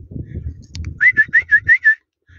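A person whistles at two chamois about 20 metres away on a mountain hike, six short rising whistles in quick succession, loud and close, following low rustling and handling noise.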